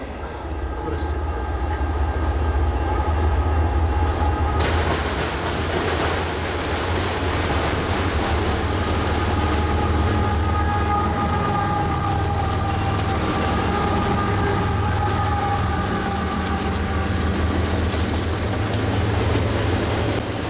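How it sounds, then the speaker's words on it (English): A BNSF freight train hauling container cars rolls past in Rochelle, Illinois, with a lash-up of C44-9W locomotives, one in Heritage 1 paint, giving a loud, sustained rumble with clickety-clack wheel rhythm throughout. "One of BNSF's remaining Heritage 1 painted C44-9Ws is in the middle of the lash-up."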